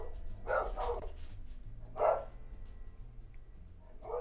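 A pet dog barks indoors, two short nearby bursts a second or so apart and the start of a third at the end, over a quiet background hum.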